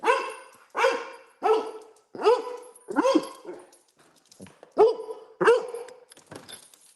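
A dog barks repeatedly and loudly nearby, about nine sharp barks in an uneven rhythm with brief whimpery tails, with no talking over them.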